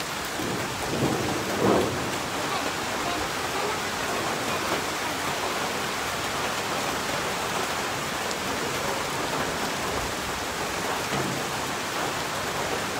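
Steady heavy typhoon rain pours down at White Beach, Puerto Galera, with a constant broadband hiss, and a low rumble of thunder swells briefly early on before settling back into the downpour.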